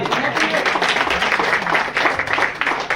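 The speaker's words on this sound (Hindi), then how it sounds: "तो भैया ताली बजना चाहिए कि नहीं बजना चाहिए?" Audience at a fan meetup clapping together in a dense, steady burst of applause, loud and close, mixed with voices.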